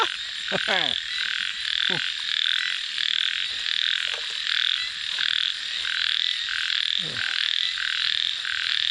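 Frogs croak in a steady, loud chorus during a night frog hunt near Wapi Pathum, Thailand, a dense pulsing din with a few sharper calls standing out close by, no talk.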